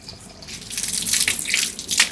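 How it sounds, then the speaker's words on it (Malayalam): Water poured into a pot of vegetable curry with mango, a close gushing splash that swells and falls over a couple of seconds, alone without talk. "ഇനി ഇതിൽ ആവശ്യത്തിന് വെള്ളം കൂടി ഒഴിച്ചിട്ട്"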